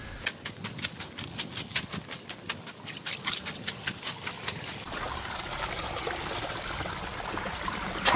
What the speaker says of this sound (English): this way out, you just follow the stream